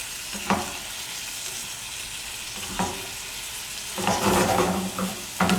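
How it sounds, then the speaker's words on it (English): Garlic shrimp sizzling in a pan while being stirred, a continuous close frying hiss broken by a few spoon scrapes and a louder stirring burst near the end, no speech. "Keep stirring it, of course."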